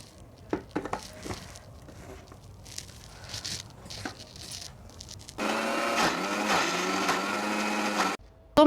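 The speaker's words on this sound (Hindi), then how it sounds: "अब इसको चलती हूँ पीसने के लिए। अब इसको पीस लेती हूँ।" A mixer grinder whirs steadily for several seconds while grinding raw turmeric chutney with salt, preceded by scattered clicks and knocks of handling the jar and lid, then stopping abruptly.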